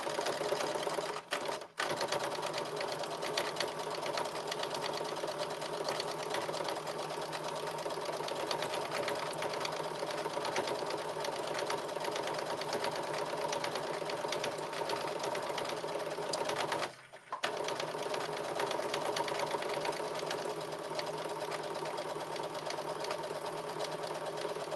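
A sewing machine runs edge stitching along a blazer in a long, steady, rapid rattle, close and continuous, with two brief pauses.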